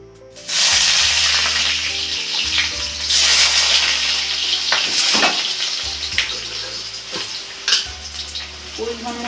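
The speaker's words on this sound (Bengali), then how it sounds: "কড়াই তেল গরম হয়ে গেছে, এবার আমি আলুগুলো ভেজে নেব।" Potatoes dropped into hot mustard oil in a kadai, a loud steady sizzle and crackle of frying that starts abruptly and continues throughout, with occasional stirring clatter.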